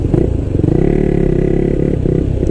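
A KTM Duke 125 motorcycle engine thrums loudly while being ridden, a close, buzzing single-cylinder growl that swells slightly and holds steady over a couple of seconds.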